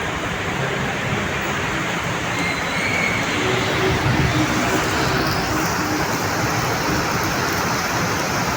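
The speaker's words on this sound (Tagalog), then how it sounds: "lumakas. Ayun, naulan na." Heavy rain roars in a continuous dense wash, heard from inside a moving car at night in Pasig, with the steady hiss filling the whole stretch and swelling slightly stronger midway.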